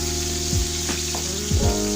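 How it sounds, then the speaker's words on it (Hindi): Ginger garlic paste sautéing in a hot pan, a steady loud sizzle with brief stirring scrapes. "थोड़ा सा इसे सौते करते हैं"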